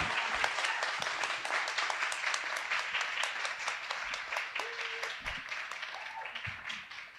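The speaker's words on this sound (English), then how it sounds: "Can you guys give her a round of applause?" Audience applause after an author talk by a law professor, a dense steady round of clapping filling the room at full strength, with a few brief voices and a tone briefly audible underneath before it begins to thin out at the end.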